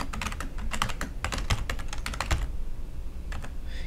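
Rapid, irregular keystrokes on a computer keyboard as a password is entered, close and clear, with a brief pause near the end before a few final taps.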